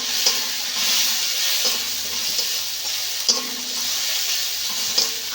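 Rohu fish pieces and taro sautéing with spices in a pan, a constant bright sizzle with periodic spatula scrapes and taps against the pan, no talking.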